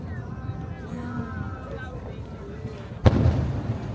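Fireworks burst over downtown Annapolis, heard from the Spa Creek Bridge: a single sharp, loud bang followed by a crackling rumble, over a background of crowd chatter and boat noise.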